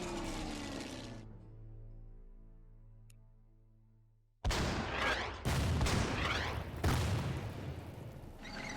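Bombing in Order of Battle: World War Two, a long fading rumble that sinks into near silence, then sharp heavy blasts erupt in quick succession, loud and close.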